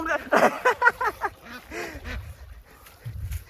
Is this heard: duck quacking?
yes